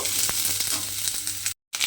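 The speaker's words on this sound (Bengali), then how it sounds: "দেখুন কুমড়োটা আমি তেলের মধ্যে দিয়ে এইভাবে একটু সময় ভেজে নেব।" Pumpkin pieces fry in oil, a close steady sizzle with faint stirring clicks, cut off by a short silent gap before the hiss resumes; no one speaks.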